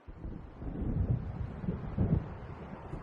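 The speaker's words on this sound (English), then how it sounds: "It seems there's a storm coming." Low distant rumble of thunder from an approaching storm in Alan Wake Remastered, rolling in two soft swells over a steady windy hiss, with no voices.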